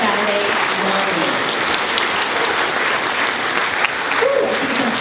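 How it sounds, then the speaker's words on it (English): Loud, continuous audience applause at a Saturday morning gathering, a dense wash of clapping close by with some crowd noise and a few voices mixed in. "give yourselves a big round of applause for being here on"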